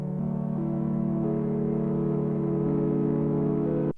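A synth preset in a VST plugin run through a crunchy filter, distortion and reverb gives a sustained harmonic-rich tone whose pitch steps slightly, then cuts off abruptly near four seconds. No voices are heard.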